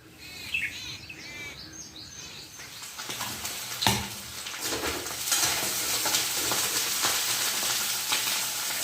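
Soaked khichdi being stir-fried in a pan, with a steady sizzle that swells after the first few seconds and scraping stirring strokes, while birds chirp in the background early on.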